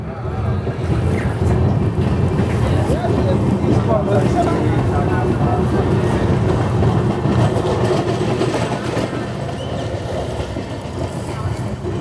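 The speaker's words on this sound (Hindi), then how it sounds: "हमारी ट्रेन का डिपार्चर हो रहा है बोबिली जंक्शन से" An Indian express train, the Visakhapatnam–Mumbai LTT SF Express, pulls out of Bobbili Junction with a steady loud rumble and rattling carriage noise, heard from on board while someone talks over it.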